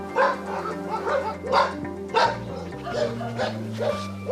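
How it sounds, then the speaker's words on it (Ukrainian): A large pack of stray dogs in the city centre of Kyiv barks repeatedly in uneven bursts, some yips mixed in, over a low steady hum, moderately close. "Вони лають постійно. Тут просто величезна зграя собак"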